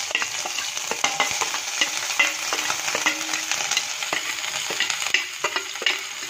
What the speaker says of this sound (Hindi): सारी चीज़ों को डाल के हमें फ्राई कर लेना है अच्छे से।